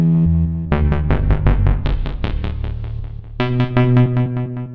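A Donner Medo synthesizer plays its Echo bass preset in a run of repeated, buzzy, distorted bass notes with echoing tails, shifting pitch partway through, loud and with no talk.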